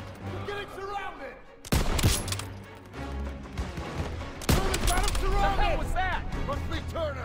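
Gunfire in the World War II video game Call of Duty WW2 campaign, two loud sudden bursts of shots and impacts cutting through ongoing soldier voices and battlefield shouting.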